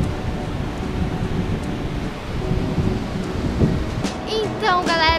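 Rain begins to fall during a bike ride on the beach sand at Balneário Camboriú, a broad, steady hiss mixed with wind rumble, and a voice briefly joins near the end.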